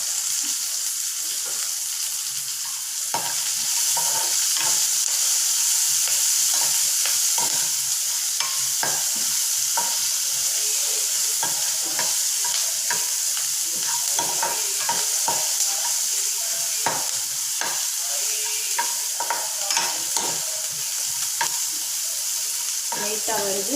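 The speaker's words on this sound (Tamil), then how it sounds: "வெங்காயம் வதங்குறதுக்காக லைட்டாக கொஞ்சமாக சால்ட் சேர்த்துக்கணும்." Onions sauté with a little salt in a pan for a drumstick leaf stir-fry, a loud steady sizzle with frequent scraping and tapping from stirring throughout, heard up close without speech.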